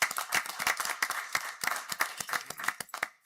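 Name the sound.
applause at school board meeting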